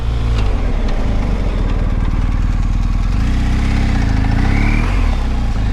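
A motorcycle slows from 30 mph to a stop under hard braking as the rear ABS engages, its engine rumble loud and steady beneath wind noise and a brief squeal near the end.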